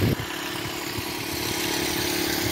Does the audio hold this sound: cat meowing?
no